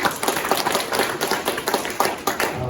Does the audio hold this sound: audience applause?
yes